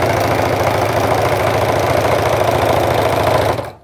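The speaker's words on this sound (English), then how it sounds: "I can sew the way I normally would" Home sewing machine stitching a quilt-as-you-go jelly roll Christmas stocking, a fast steady mechanical whir with rapid needle clatter running loud and unbroken before stopping abruptly at the end.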